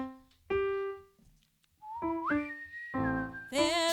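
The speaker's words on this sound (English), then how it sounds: "Could you whistle that?" Someone whistles the Littlest Hobo theme song, a clear, tuneful melody of held and sliding notes close to the listener, with brief pauses between phrases and no talking.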